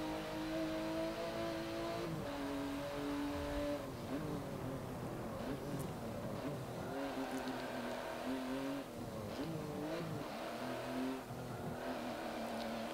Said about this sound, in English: this is like a racing version of the 911, even though it is a road car